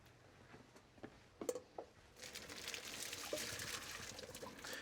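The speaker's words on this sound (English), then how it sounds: "we're just going to strain the pasta off." Faint pasta water pours off through a strainer with a few light clinks at first, then a steady soft rushing splash of draining water.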